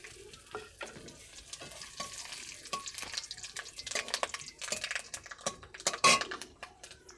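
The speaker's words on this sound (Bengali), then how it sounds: "এই তেলের উপরে দিয়ে দেব এলাচ, দালচিনি, লবঙ্গ, জায়ত্রী, জায়ফল আর তেজপাতা।" Whole spices (cardamom, cinnamon, cloves, mace, nutmeg and bay leaves) fry in hot oil for chicken biryani, with a steady close sizzle, repeated stirring scrapes and occasional clinks of a utensil against the pan.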